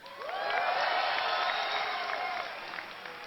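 A large esports crowd at BlizzCon 2010 cheers and applauds before a StarCraft II match, a dense swell of whoops and clapping that rises quickly and holds for a few seconds.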